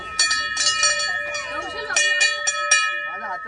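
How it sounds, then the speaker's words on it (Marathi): A bright metal temple bell at Akkalkot is struck repeatedly in quick, uneven strokes, its tones ringing on and overlapping, with people talking and moving nearby. "इथली घंटी वाजवतो."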